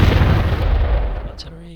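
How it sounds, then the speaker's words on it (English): Artillery fire in a strategy video game: a loud, dense rumbling boom that fills the opening second and then decays into a fading tail, with a faint chime-like tone near the end. "we can hit it with artillery, we can bring the mobile vehicles up"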